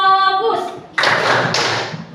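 A class performing a rhythmic clapping routine, two sharp bursts of many hands striking together in quick succession, loud and close, right after a voice speaks.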